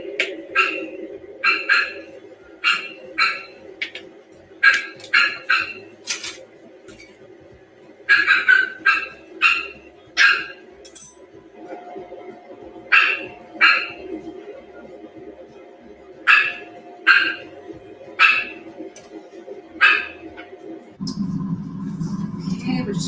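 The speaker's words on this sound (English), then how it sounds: "So I'm just going to decorate these two while the dogs bark." Dogs indoors bark at a delivery driver at the door, sharp repeated barks coming in irregular clusters and bursts, loud and close over a steady background hum.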